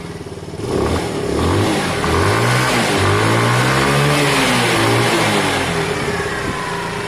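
Sinnis Harrier 125 motorcycle engine runs loud and close, revving up and then holding a steady, slightly rough idle.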